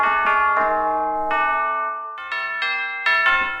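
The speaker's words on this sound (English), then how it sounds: "what I usually go for is bells" A bell preset on the Studiolinked Trap Boom 2 VST synth plays a short melodic run of bright, ringing bell tones, several notes struck in sequence with sustained tails, clean and alone with no talking.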